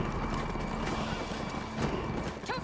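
A horse whinnies and its hooves clip-clop steadily in a Wild West vampire-shooting video game, with dense game sound effects and music around them.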